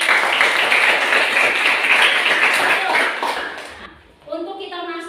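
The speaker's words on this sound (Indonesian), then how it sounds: "Berikan tepuk tangan untuk" Classroom applause from students during a teacher training lesson, a dense steady clatter of clapping for about four seconds before it stops and a teacher's voice begins speaking.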